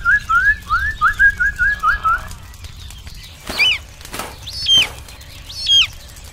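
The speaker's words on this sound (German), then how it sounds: "Ach, was für ein toller Vogel du bist." A bird beats its wings in a quick rhythmic series of loud flutters, followed by a few separate whistling calls, alone with no voices, in a Playmobil fire brigade scene.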